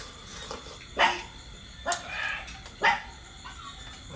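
Dog barking out in a flooded rural field during frog hunting: three or four sharp barks spaced about a second apart, moderately close, over steady outdoor background noise.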